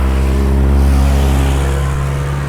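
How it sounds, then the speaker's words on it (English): Steady engine drone of cars on a road, a loud continuous hum with a vehicle swelling slightly as it passes, no talking. "Cars driving around."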